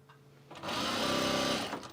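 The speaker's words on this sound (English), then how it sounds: "stitching this in the seam allowance here" A sewing machine stitches along the seam allowance of a duffle bag in one short, steady whirring burst. It starts after a quiet moment and runs close and clear.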